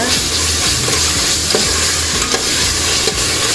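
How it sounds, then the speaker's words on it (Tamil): Ginger garlic paste sautéing in a pan for vegetable rice, a loud steady sizzle with stirring scrapes running throughout, close and continuous. "இஞ்சி பூண்டு பேஸ்ட்டு ஒரு கரண்டி சேர்த்துக்கிறேன் சேர்த்து நல்லா பச்சை வாசனை போகிறதுக்கு வதக்கி விட்டுக்குங்க"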